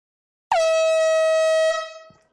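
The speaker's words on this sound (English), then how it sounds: "Air horn time." A single loud, blaring air horn blast sounds for about a second, steady and piercing, then fades out quickly.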